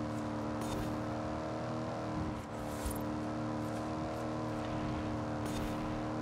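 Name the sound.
Ford Crown Victoria police car engine accelerating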